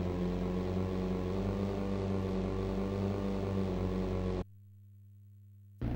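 Racing boat engines in a kyotei boat-racing game, a continuous loud buzzing drone with steady harmonics that cuts out abruptly to a flat hum near the end.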